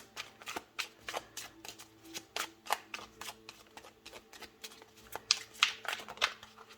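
Tarot cards being shuffled by hand, a quick run of crisp riffling flicks and soft slaps repeating steadily throughout, close and fairly quiet with no talking.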